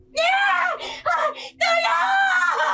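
A woman in an audio drama screams loudly and close, one long piercing shriek, then broken wailing bursts, then another sustained scream.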